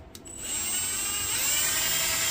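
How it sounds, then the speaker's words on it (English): A power drill whines steadily at high pitch, loud and close, boring into wood after a brief click at the start. "I want to put my drill bit here"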